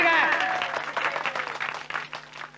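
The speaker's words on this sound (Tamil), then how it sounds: "எல்லாம் கைத்தட்டுங்க, கைத்தட்டுங்க." A crowd claps at a comedy event, steady broadband applause that fades slightly over a couple of seconds, with a tonal voice or music line faintly beneath at the start.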